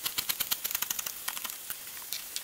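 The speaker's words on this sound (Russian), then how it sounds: "Измельчу петрушку с укропом." A knife chops fresh parsley and dill on a cutting board in rapid, crisp, evenly spaced strokes close up. A brief pause breaks the run before sparser chops follow.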